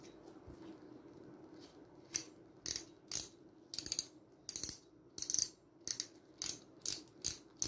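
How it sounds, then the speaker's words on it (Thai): Spring clicker ratchet on a Deukio DA2000S double-arm fishing reel: a quiet, close series of sharp clicks in short uneven bursts, roughly a dozen over several seconds, heard alone. "ตัวกิ๊กเสียงนะครับเป็นแบบนี้นะครับกิ๊กเสียงสปริงนะครับ"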